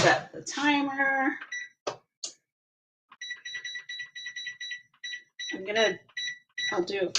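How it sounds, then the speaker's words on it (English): A kitchen oven timer being set, giving a run of short, sharp electronic beeps in quick succession, close by, with a person talking before and between them. "I'm going to set the timer."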